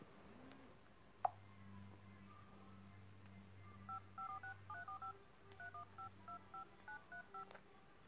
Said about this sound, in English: Let me call her.